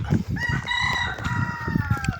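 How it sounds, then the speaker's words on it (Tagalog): A rooster crows nearby with a long, rising and falling call, mixed with clucking and other farmyard noise around it. "Doon sa may tumitilaok na manok."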